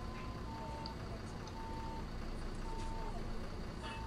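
A steady electronic level crossing bell in the OMSI 2 bus simulator game rings in repeated pulses over a constant low rumble of machinery, with faint scattered clicks.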